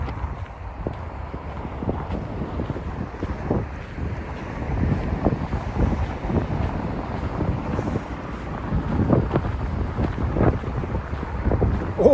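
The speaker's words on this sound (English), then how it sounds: "Oh, it's windy here." Steady wind buffeting a microphone on Vasilyevsky Island in St. Petersburg, Russia, producing a continuous low rumbling roar with gusty thumps throughout, no talking.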